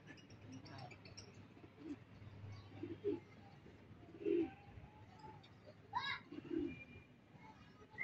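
Checkered racing pigeons coo in several soft, repeated low calls at moderate distance, with faint voices and outdoor noise in the background.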